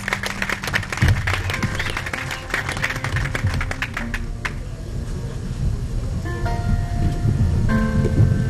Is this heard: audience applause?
yes